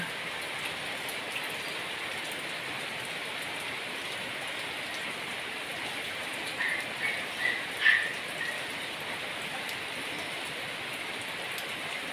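Steady rain hissing down on surfaces, dense and continuous, with a few louder drips and patters near the end.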